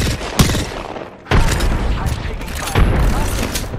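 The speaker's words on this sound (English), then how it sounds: "Frag grenade set." A frag grenade explosion and gunfire in the video game Apex Legends bring sharp booming blasts and rapid shots, loud and close, with several heavy impacts over a short stretch of continuous combat noise.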